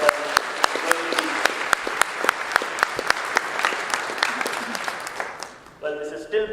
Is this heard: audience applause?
yes